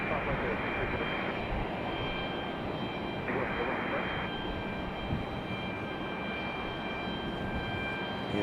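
An Airbus A321 arriving from Detroit at Raleigh-Durham airport produces a continuous jet engine roar with a steady high whine, moderately loud, while someone talks over it.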